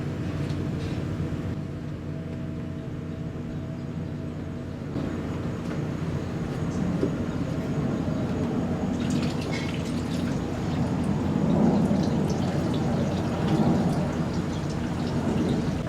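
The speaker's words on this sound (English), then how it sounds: "Let it flush out a little bit." Gasoline drains out of a Yamaha TTR 90 pit bike in a steady, continuous trickling wash that stays fairly loud and close throughout, with occasional faint clinks.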